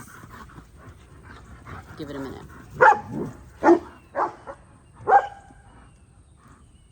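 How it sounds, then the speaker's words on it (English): Big dogs bark while running the fence with the neighbors' little dogs in a backyard, several sharp barks in separate bursts, with a person speaking briefly in between. "So the dogs have chosen right now to run the fence with the neighbors' little dogs"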